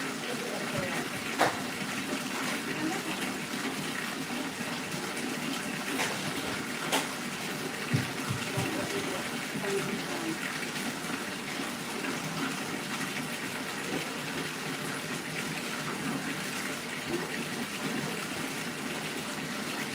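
Water gushes and splashes steadily throughout a hair wash at a salon sink, continuous running flow with occasional louder splashes, with some muffled voices in the background.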